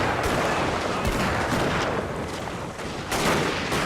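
Dense gunfire rattles through a siege battle in the rain in the video game Shogun 2: Total War, volleys of musket shots merging into a continuous crackling roar with surging bursts and no talk.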